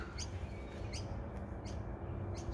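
Birds chirping outdoors in Mparntwe: four short, faint high chirps spaced about evenly over a steady, heavy low rumble of background noise.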